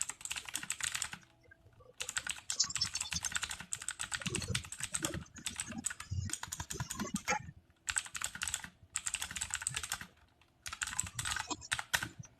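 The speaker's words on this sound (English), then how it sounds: "I thought you knew about it and you're just typing it now" Fingers type on a computer keyboard in quick, clattering bursts of keystrokes separated by short pauses, close but quiet, with faint talking in the background.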